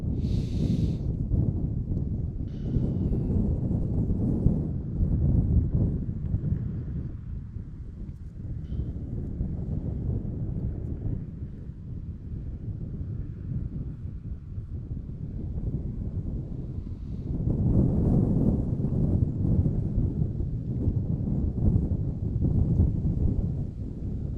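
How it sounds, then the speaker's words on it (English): Strong outdoor wind buffets the microphone in a continuous low, rumbling roar that dips in the middle and surges louder again near the end, with no voices. "And it is very windy out here, folks. The wind is picking up, as I'm sure you can see and hear."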